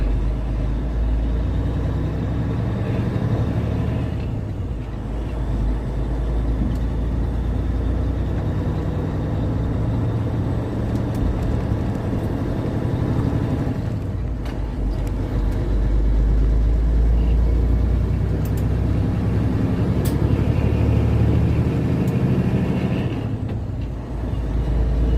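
A large, heavy truck accelerating out of an intersection in winter, a loud, steady low engine roar heard from the cab that builds and swells over time, without any talking.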